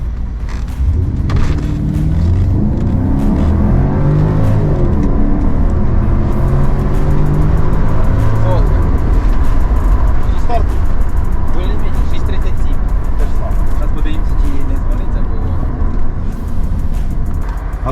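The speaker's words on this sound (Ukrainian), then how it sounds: "Зараз ми побачимо, як розганяється цей X6 на V8 на двох турбінах." A BMW X6 with a twin-turbo V8 accelerates hard, its loud engine note climbing through rising gear pulls and holding a dense roar throughout, with people talking briefly over it.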